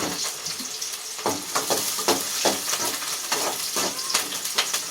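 Red and white onions frying in a pan for a crab curry, a steady sizzle with repeated scraping stirs at a close, even level and no talk.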